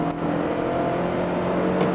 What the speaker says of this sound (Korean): 이 시끄러운 4기통 킨슨 사이클 엔진이 돌아가는 그 진동과 소음